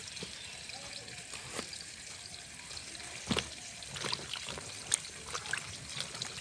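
Tap water trickles and splashes while freshly cut tender eggplant pieces are rinsed, with soft irregular splashes and small knocks over a steady faint running-water hiss.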